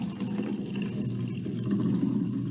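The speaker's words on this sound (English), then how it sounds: "I'm going to go ahead and fill this measuring cup up to 1 cup" Water tinted with food colouring pours steadily into a measuring cup, filling it to one cup, with a continuous close splashing trickle and no talking.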